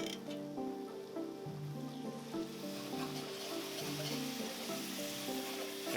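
Beef broth being stirred into a hot pan, a moderate sizzle with wet squishing and scraping, heard close and fairly quiet, with faint background music tones.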